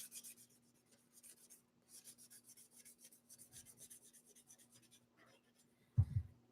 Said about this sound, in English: Just sanding this.